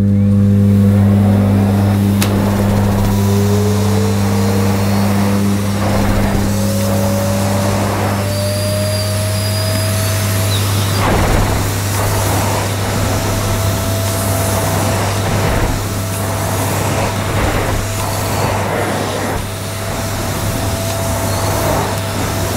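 A Hoover Sensory 2300 watt vacuum cleaner with zoom tube runs steadily and loudly throughout, a constant motor hum with a whining tone that shifts in pitch as it works, close up with no talking.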